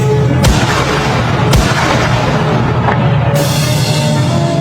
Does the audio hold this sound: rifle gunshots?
yes